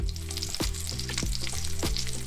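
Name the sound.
garlic cloves frying in oil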